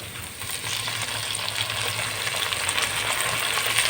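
Ginger garlic paste and tomato frying in a pan for vegetable biryani, giving a steady, close sizzle with a dense crackle that holds level throughout, with no voices.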